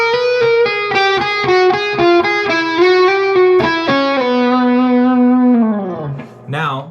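Distorted electric guitar plays a fast opening lick with pull-offs and a slide, a quick run of picked notes ending in a sustained, bending tone, loud and close with an effects-laden sound.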